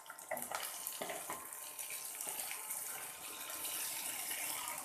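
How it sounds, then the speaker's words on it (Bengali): Water pours into a cooking pot holding ground ginger, cumin and garlic, starting with a few splashy bursts and settling into a steady, close trickling splash for several seconds. "এখন এর মধ্যে জল দিয়ে দেব।"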